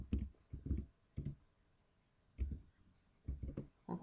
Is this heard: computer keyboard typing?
yes